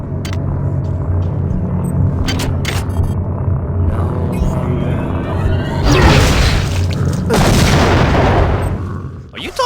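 Grenade explosions in the video game System Shock 2: heavy booming blasts with rumble and crackling debris, two strong bursts in the second half over a continuous game ambience.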